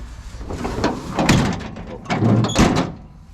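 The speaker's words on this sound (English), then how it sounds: "Tailgate opens and closes" An older pickup truck's tailgate with surface rust and a latch that must be pulled to close, heard opening and then slamming shut in two loud, close metallic clunks with rattles.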